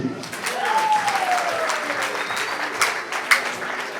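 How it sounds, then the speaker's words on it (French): Wedding guests clap steadily in a dense, continuous burst of applause, with a voice calling out over the clapping. "Est-ce qu'on peut applaudir?"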